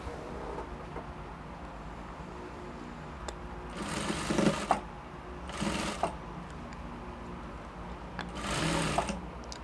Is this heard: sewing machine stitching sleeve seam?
yes